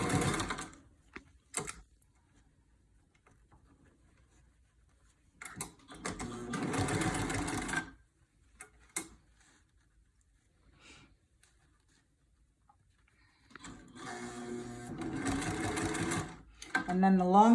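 A sewing machine stitches short elastic onto the bottom of a fabric mask in several bursts of rapid close whirring, separated by quiet gaps and brief clicks, with a person talking between the stitching runs.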